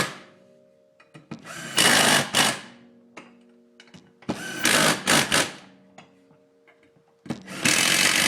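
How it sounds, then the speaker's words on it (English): Power driver running screws into a Polaris RZR, Ranger or General secondary clutch, heard up close in three loud whirring bursts separated by quiet pauses with small clicks and handling sounds. "Now we can actually crank this down all the way until it's seated and run our screws in."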